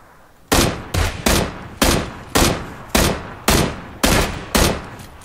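Gunfire in PUBG: eight loud, sharp shots in an uneven rhythm, each cracking out and ringing briefly, fired close over about five seconds with no talking.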